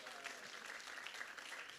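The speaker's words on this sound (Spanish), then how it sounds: "Dale un aplauso grande al Señor en esta hora." A church congregation at a Spanish-language sermon applauds, a short, dense burst of clapping heard from a distance and fairly faint.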